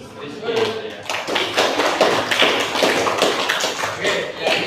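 A classroom of students claps for a classmate during a school lesson on waste management, a dense run of many hands clapping with scattered taps and a murmur of voices underneath.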